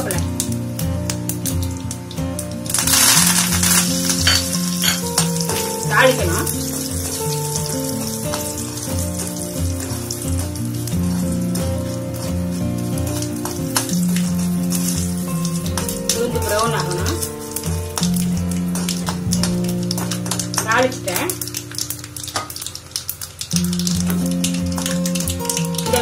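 Mustard seeds, urad dal, asafoetida and curry leaves sizzle and crackle in hot oil in a home kitchen, a steady frying hiss with scattered pops running throughout, fairly close, with background music and a voice over it.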